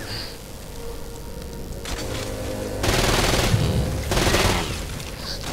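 Rapid, sustained SMG fire in the video game Saints Row: Gat Out of Hell, with two louder stretches of continuous automatic bursts over a steady background rumble.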